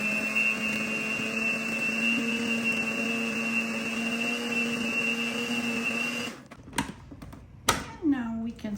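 An electric mixer whirs steadily through cream cheese for about six seconds, a close, even mechanical hum, then cuts off, leaving a few clattering knocks and scrapes.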